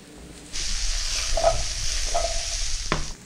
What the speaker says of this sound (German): Und das Gemüse lassen wir jetzt richtig schön anbraten, dass wir schöne Röstaromen bekommen